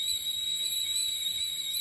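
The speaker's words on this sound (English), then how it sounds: "Looks like I'll just have to settle for the whistle of my own tea kettle." A tea kettle whistles in a single sustained, steady high-pitched tone that holds without wavering for the whole stretch, fairly close and with no talking over it.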